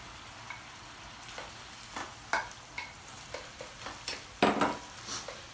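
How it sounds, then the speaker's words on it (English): Leftover rice is stirred into tomatoes in a hot pan, with a steady low sizzle under a series of sharp, irregular spoon scrapes and clatters against the pan. "You just wanna mix the rice into your tomatoes so that it can absorb and cook down"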